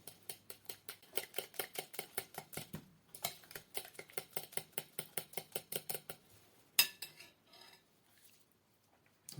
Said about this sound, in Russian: Далее добавляю растительное масло, сметану и снова хорошенечко перемешиваю.